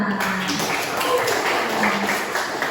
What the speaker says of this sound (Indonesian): Ya, sekali lagi tepuk tangan untuk kita semua.